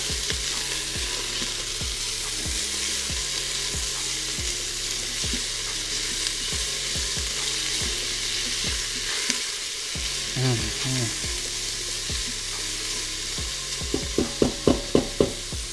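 Spaghetti cooks in an Instant Pot Duo Crisp, a steady loud sizzle carrying a regular rhythmic pulsing beat, with a short run of quick bubbling pops at the end and no speech.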